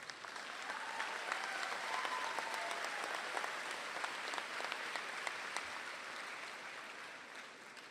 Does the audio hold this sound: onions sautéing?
no